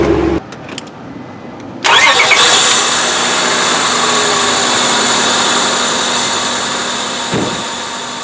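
A 2000 Honda Accord fitted with a new short ram intake cranks briefly after a quiet moment, then catches and settles into a loud, steady idle with a faint whine, heard alone.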